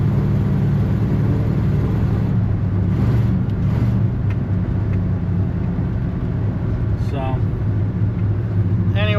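A 1979 hearse cruising at about 50 mph, with a steady low engine and road rumble plus wind noise filling the cabin throughout, and a voice talking over it.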